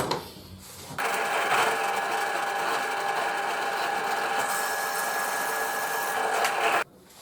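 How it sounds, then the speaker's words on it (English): A drill press bores into thin laminated wood, running as one steady whirring drone for about six seconds before stopping abruptly, heard close and alone with no talk. "And to the drill press, and we're going to go down the depth of 16 mil."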